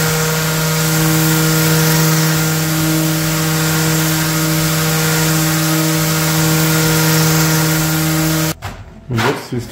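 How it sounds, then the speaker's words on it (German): Power sanding of beech heartwood with 100 grit paper, a loud steady whir with a strong hum that runs unbroken until the machine stops near the end. "Zum Schleifen verwende ich im ersten Schritt Korn 100"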